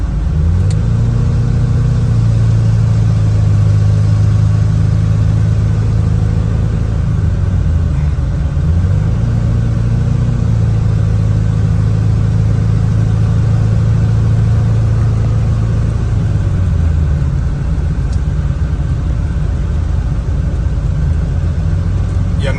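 A Ford Super Duty truck's engine rumbles steadily while driving, a loud, close, continuous drone inside the cab with gentle rises and falls in pitch as the truck shifts and accelerates.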